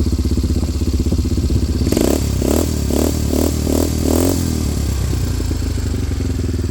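A Coolster 175cc ATV engine idles with a steady low rumble, then revs in a series of quick rhythmic blips before settling back to idle.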